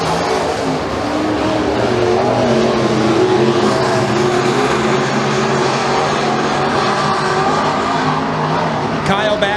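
Pro mod race cars roar around the oval at McKean County Raceway as they battle for the lead, with a loud, continuous layered engine drone from several cars and an announcer talking over it.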